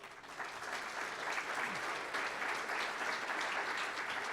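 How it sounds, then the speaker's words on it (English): An audience at a city event breakfast claps together, a fairly distant, sustained round of applause that holds steady for a few seconds. "Once again, you clapped too soon"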